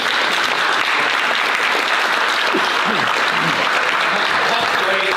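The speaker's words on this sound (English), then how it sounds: "give one more round of applause for our panel and for our moderator" A forum audience gives a round of applause for the panel and moderator, loud, close, continuous clapping with faint voices underneath, holding steady throughout.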